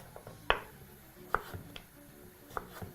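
A knife slices through carrots on a cutting board: four or five crisp, distinct chops spaced irregularly, close and fairly clear over quiet background, no talk.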